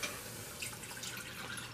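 Milk is poured into a pot for mac and cheese, a faint, steady liquid stream with soft splashing and gurgling, heard alone from start to finish.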